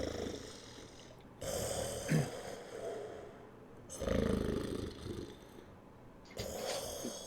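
A young green dragon sleeps curled on a tower floor, breathing deeply in slow, rumbling snore-like cycles, each long hoarse inhale and exhale rising and falling, close and alone.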